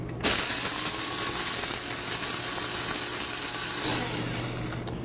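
Whole cloves, allspice, fennel and chili flakes grinding for a rib spice rub, a continuous harsh rattling grind running for several seconds, loud and close, ending abruptly.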